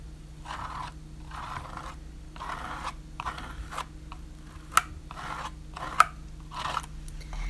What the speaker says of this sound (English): As I put it on, I sort of scrape it off my stencil so I'm not wasting any